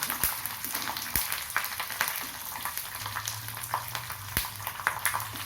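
Spicy puffed rice roasting in a pan, giving a steady dry crackle and sizzle with scattered sharp clicks and scrapes as it is stirred, close and alone.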